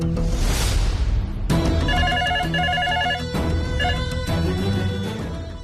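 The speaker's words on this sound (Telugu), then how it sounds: "ఇంటి ల్యాండ్ లైన్ ఫోన్ చేద్దాం" A home landline telephone rings loudly in repeated electronic bursts over a dramatic music score, following a short whooshing swell at the start. It runs for several cycles with no speech.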